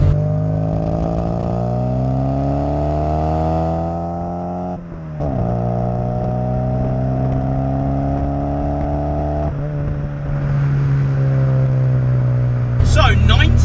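A 1990 classic Mini, a Racing Flame Checkmate special edition, drives along with its small engine revving up through the gears in steady pulls, dipping briefly at each shift, loud and close throughout with no talk.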